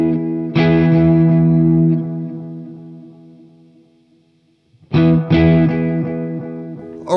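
Roland Space Echo tape echo unit, freshly serviced, processing two loud sustained chords that each decay slowly with repeating echoes, the second chord striking after a near-silent gap.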